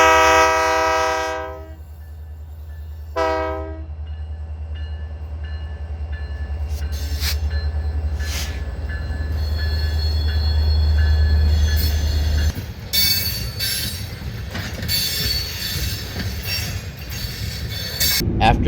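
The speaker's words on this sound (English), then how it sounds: "the BNSF local began to pull forward to merge onto the BNSF La Junta sub" A BNSF local freight train pulls forward to merge onto the La Junta subdivision, with long loud horn blasts up front, then a steady low rumble of rolling cars and squealing wheels growing closer.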